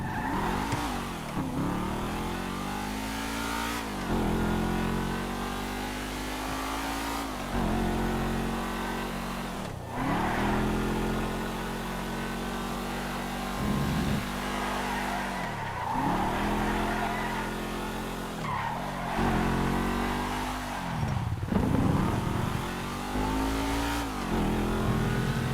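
An old car's engine revs and pulls through repeated gear changes on a test drive, rising and dropping in pitch in regular cycles, steady and close inside the cabin without speech.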